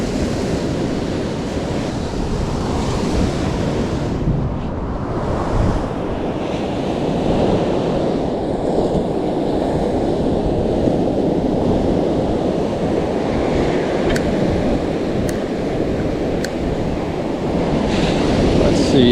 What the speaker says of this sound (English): where the waves are initially starting to break and then where they actually come in at the surf